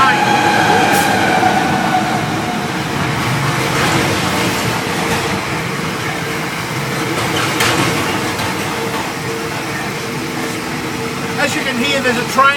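A train rolls past with a steady low rumble and occasional squeals, while a person talks over the noise.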